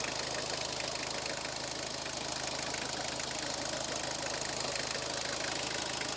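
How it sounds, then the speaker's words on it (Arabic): A car engine that burns or loses oil idles steadily nearby with a constant rattling, knocking hum that holds an even level throughout, with no other sounds. "المهم صوت المحرك هو هذا كما كتشوف"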